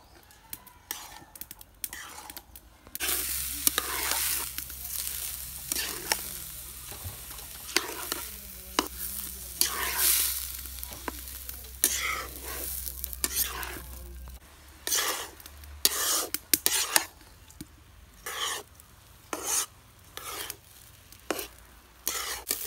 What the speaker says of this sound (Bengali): এখন আমি সুন্দর করে ভেজে নেব।